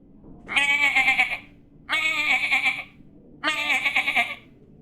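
A person imitates a sheep, giving three wavering bleats with short pauses between them.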